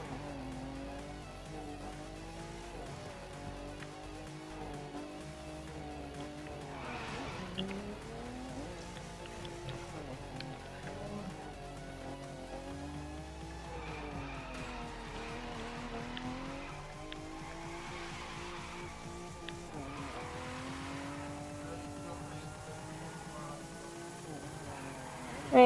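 Cars drifting in The Crew 2, with a steady engine drone and long, wavering tire squeals that rise and fall throughout, fairly loud and continuous.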